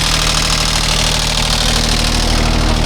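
A used mini excavator's engine idles close by, a loud, steady, low diesel rumble with a faint knocking pulse and no talk.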